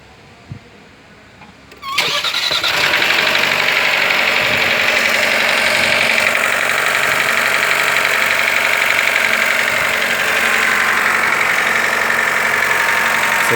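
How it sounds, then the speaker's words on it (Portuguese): A 1.3 turbo engine from a Fiat Toro, Jeep Renegade or Compass cranks and fires after about two seconds of quiet, then runs loudly and steadily with a rattling, knocking tone throughout. "Vou dar na partida e mostrar para vocês que é uma característica desse motor."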